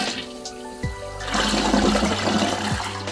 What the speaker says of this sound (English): So let's flush it to empty it out.